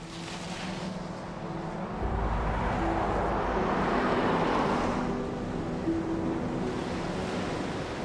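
Ocean waves surging out at sea, a continuous broad wash of surf with wind, swelling louder in the middle and holding steady without any voices.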